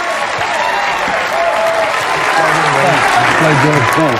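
Applause for the winner of a World Poker Tour event at the Bellagio in Las Vegas: sustained, dense clapping from a crowd that swells slightly toward the end, with a voice talking over it.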